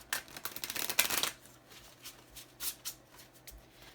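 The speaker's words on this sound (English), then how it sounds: "We'll shuffle the deck a couple of times." Quick riffling flutters of a card deck being shuffled, a dense burst up close followed by a few softer, scattered riffles and taps.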